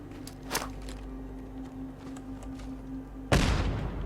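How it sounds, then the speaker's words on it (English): A baseball grenade detonating in Fallout 4 survival mode, a single sharp boom near the end after several seconds of quieter footsteps and ambient hum. "Let's see if I can just kill him with a baseball grenade"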